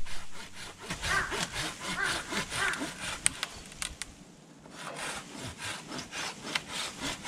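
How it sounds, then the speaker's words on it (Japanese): Hand saw cutting through a Shimatoneriko (Formosan ash) branch during pruning, a steady rhythmic series of rasping back-and-forth strokes close up, a brief pause near the middle, then sawing resumes. "切りたい位置の下にまず刃を入れ、 それからその刃を入れたところより少し枝先寄りのところから切っていきます。"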